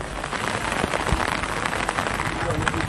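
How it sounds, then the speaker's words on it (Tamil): Steady moderate rain falls at night over the Kodaikanal area, a dense continuous hiss of drops with no break in its level. "கொடைக்கானல் மற்றும் அதன் சுற்றுவட்டார பகுதிகளில் இரவு சுமார் 2 மணி நேரத்திற்கு மேலாக மிதமான மழை பெய்தது."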